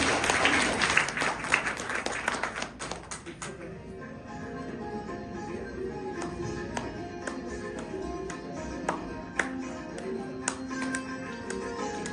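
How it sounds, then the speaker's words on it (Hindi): An audience at an anniversary event at a Brahma Kumaris centre in Chandigarh gives loud, dense applause for several seconds. It then thins into scattered claps and taps over a quieter background. "जोरदार तालियां उनकी होनी चाहिए"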